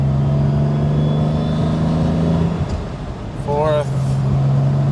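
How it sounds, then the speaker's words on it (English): A 1967 Aston Martin DB6 Vantage with a 4.7-litre engine pulls through its gears on the road, a close, steady engine drone that dips and rises at a shift while someone talks over it. "We go through the gears first, second,"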